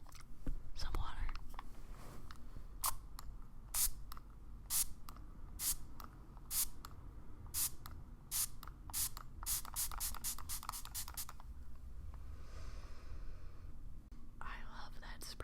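Water spray bottle spritzing in quick bursts during a makeup routine, a long run of crisp short sprays, some spaced and some rapid, close to the microphone, with soft whispering underneath.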